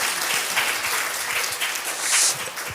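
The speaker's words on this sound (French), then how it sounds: "Vous n'êtes pas obligés d'applaudir." Audience at a museum seminar on collection inventory of deposits applauding at the opening, a steady patter of many hands clapping, fairly close and continuous with no talk.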